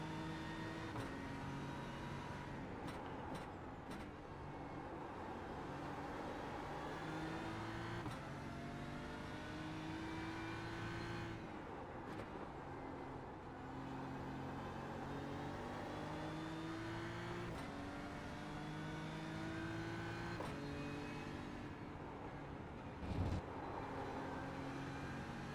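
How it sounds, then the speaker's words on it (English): A BMW M4 GT3 race car engine in iRacing at Watkins Glen drones steadily for the whole stretch, rising and falling through gear changes, with revs climbing, shift drops and occasional brief crackles, and no one talking. "So let's just listen to the car for a bit."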